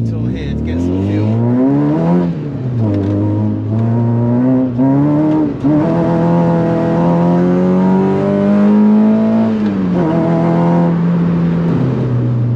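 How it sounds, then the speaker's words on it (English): A Renault Megane track day car drives under load, its engine note rising and falling through gear changes with a loud, close drone and intermittent revving. "we'll have a quick sound check of the car to see what it sounds like"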